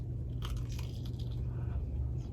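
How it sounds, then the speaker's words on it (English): A close, crisp crunch of biting into the crusty, chewy crust of bread baked from frozen, followed by soft chewing noises over a low background hum. "Crunchy. I love when it has that bit of crunch, but the crust is still chewy."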